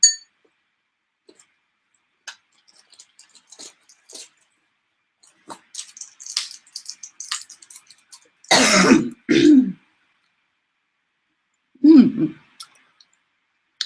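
Small quiet clicks and rustles lead into two close, forceful throat clears from a person with a cough, then a single rough cough after a short pause.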